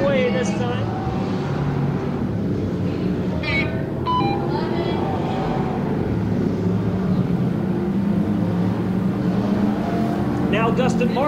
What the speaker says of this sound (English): Dustin Markham looking to make a move on Frankie Oaks, trying to get into that second spot